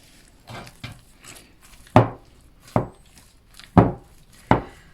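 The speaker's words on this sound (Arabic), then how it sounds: "ونستمر بالعجن." Sesame cake dough, with half a cup of milk worked in, is kneaded by hand on a work surface, giving a run of close, sharp slaps and thuds, about four of them strong and evenly spaced, with softer handling noises between and no talking.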